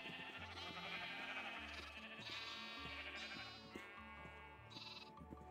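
Blocky Minecraft sheep bleating repeatedly in the game, several close wavering bleats following one another in quick succession over a steady background.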